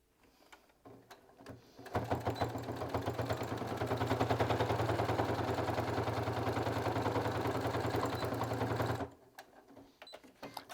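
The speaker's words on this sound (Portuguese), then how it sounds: "eu já vou fechar a máquina também" Sewing machine stitching closed the opening of a fabric pencil case, a fast even mechanical whir lasting about seven seconds between quiet pauses.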